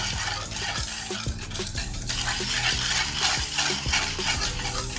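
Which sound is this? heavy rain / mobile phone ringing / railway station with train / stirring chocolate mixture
stirring chocolate mixture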